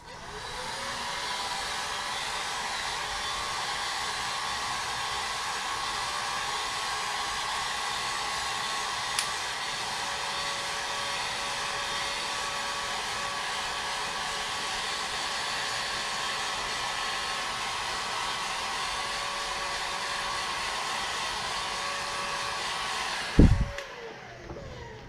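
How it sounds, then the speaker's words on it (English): A heat gun blows steadily and loudly for nearly the whole stretch while drying a coat of epoxy on a tumbler, its even whir cutting off abruptly near the end with a brief clunk. "then I'm going to hit it with the heat gun"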